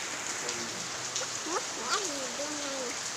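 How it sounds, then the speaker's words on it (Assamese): Rain falls in a steady, even hiss, with bright chirping bird calls rising and sliding above it near the end. "বহুত সময় অপেক্ষা কৰি বৰষুণৰ শব্দ শুনা পাইছেনে?"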